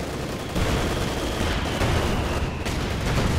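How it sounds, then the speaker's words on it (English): A Churchill Crocodile flame tank fires in Company of Heroes 2, a steady loud roaring rush of flame with battle noise, swelling after half a second and holding dense and continuous throughout. "It's a Churchill crocodile. What is he shooting his flame at?"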